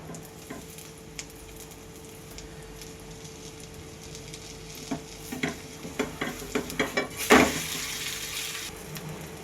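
A breakfast snack fries in oil in a pan, a low steady sizzle with a run of scraping, clattering stirs building toward the end.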